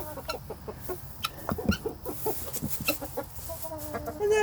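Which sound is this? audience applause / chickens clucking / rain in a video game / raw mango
chickens clucking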